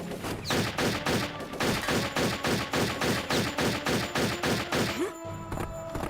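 Enemy gunfire in the shooter game Turok 3: a rapid, loud stream of evenly spaced shots, around three per second, rattling for five seconds before stopping abruptly.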